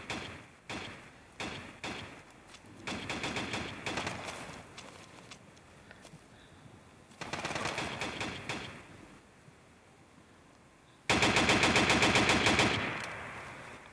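Rapid bursts of gunfire in the mobile game Harekat 2 crackle in several sharp volleys separated by short pauses, the final burst loudest before trailing off.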